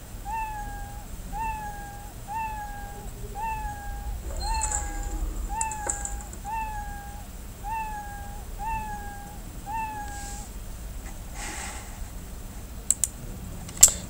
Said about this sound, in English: we can then play the sound, which is meow